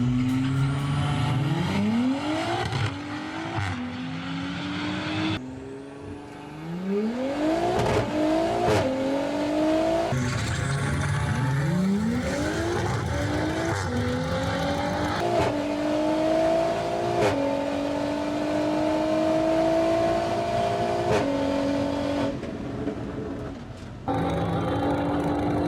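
A budget supercar makes a quarter-mile drag strip pass on a cold morning, its engine revving hard and loud through repeated rising gear pulls with sharp shift breaks, continuous and close for the whole run.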